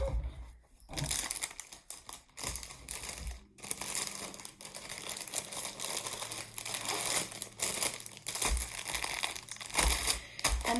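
Crinkly material folded up by hand at a cross-stitch crafting session, with close, quiet crackling and rustling in irregular bursts.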